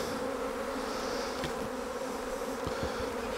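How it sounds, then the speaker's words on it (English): Honey bees buzz steadily at an open beehive during crown board removal, a dense continuous drone close by with a few faint knocks and scrapes from hive handling. "We can shake the bees off"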